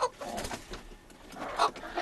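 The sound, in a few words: silkie hens clucking in a chicken pen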